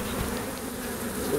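Dense, steady buzzing of many honey bees, continuous and close, with no talking; an Africanized colony.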